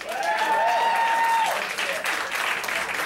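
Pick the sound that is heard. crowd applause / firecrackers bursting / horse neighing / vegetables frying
crowd applause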